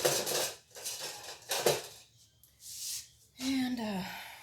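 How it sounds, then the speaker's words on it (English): Eggs whisked in a bowl with quick bursts of rapid clinking and scraping of metal against the dish, close and clear, separated by short pauses, with a voice speaking near the end. "Whisk."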